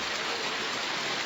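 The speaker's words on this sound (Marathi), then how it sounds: "सोलापूरच्या विविध भागांमध्ये मुसळधार पाऊस होतोय" Heavy rain pours steadily over Solapur during a monsoon downpour, a dense, continuous hiss of rainfall with no voices and no breaks.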